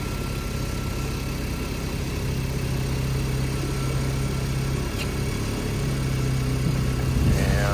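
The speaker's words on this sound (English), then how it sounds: "Engine sounds very quiet." A jump-started auction car with front fender and mirror damage idles quietly at a police auction, a low steady engine hum holding evenly throughout with a slight rise near the end.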